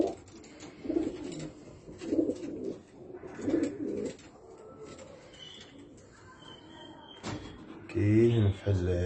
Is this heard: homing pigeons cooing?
yes